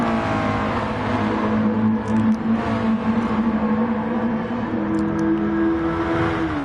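Racing car in a PS4 racing game powering out of a tight left-hander and accelerating up through the gears, a steady engine whine that climbs in pitch with brief shift dips, sustained and loud from start to finish.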